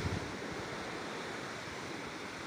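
Steady roar of surf at a beach at low tide, with strong wind noise buffeting the microphone, continuous and loud throughout, no voices.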